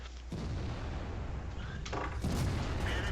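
Tank cannon shots in the game World of Tanks, a couple of muffled booms over a dense, steady battle rumble, fairly faint and without talk.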